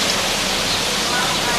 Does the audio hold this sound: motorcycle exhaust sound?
no